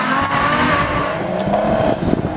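A Ferrari F12 engine roars in a racing video game, a loud, sustained high rev with a slowly shifting pitch, briefly dipping near the end as it changes gear.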